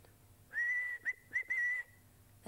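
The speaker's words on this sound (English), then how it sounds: "Sounds like a whistle." A person whistles a clear, steady high note, breaking it into a few short bursts before holding it again, close and alone.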